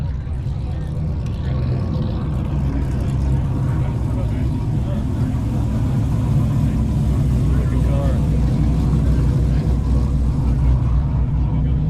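A Ford Mustang with a turbocharged inline-six idles with a choppy, uneven rumble at a car show, amid a busy crowd and people talking nearby.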